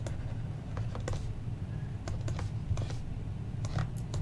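Typing on a computer keyboard during a French-language math lesson, a close run of quick irregular clicks and taps over a low room hum, with no speech.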